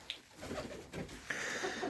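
Pigeons coo softly in a backyard loft that also holds chickens, with low burbling calls under a steady background hum.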